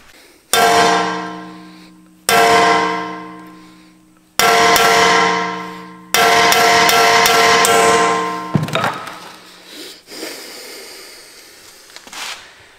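Four loud, ringing metallic hammer blows knock out a large chunk of material, each strike followed by a long decaying ring, then a flurry of faster clanks and scraping debris settling.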